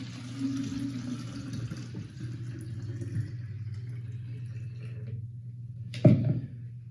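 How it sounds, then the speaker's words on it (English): Three cups of hot water pour into a container for a homemade cleaner, a soft steady liquid rush over a low hum, ending in a brief, louder splash near the finish. "we start simply with 3 cups of hot water, which we'll put in"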